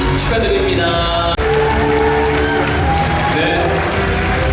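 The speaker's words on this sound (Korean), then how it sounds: "여러분 사진 촬영할 때 다시 한번 큰 박수 부탁드립니다." An audience at a ceremony claps and cheers in a dense, continuous wash of applause with whoops and raised voices mixed in, loud and close for several seconds.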